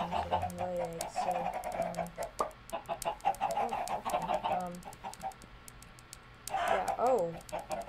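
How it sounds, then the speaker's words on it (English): Chickens cluck and squawk repeatedly in the survival game Steh: Survival Evolved, busy overlapping calls filling the scene at close range, with a louder burst of excited clucking near the end and a person talking over them. "Now it is literally just a matter of getting our chicken friends in here."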